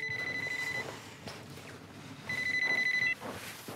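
Telephone ringing in two clear electronic trill bursts separated by a pause, fairly close and loud with a quiet room in between.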